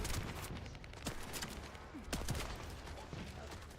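Hip-fire gunshots ring out in the shooter game The First Descendant: sharp, separate cracks in an uneven rhythm, with a few louder reports standing out over steady background noise.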